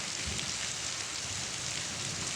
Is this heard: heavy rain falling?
yes